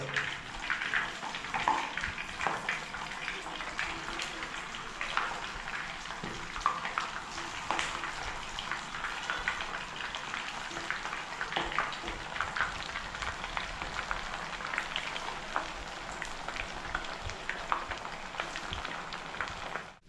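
Chicken leg pieces frying in hot coconut oil, a dense continuous crackle and hiss that holds steady and fairly loud throughout, with no voices.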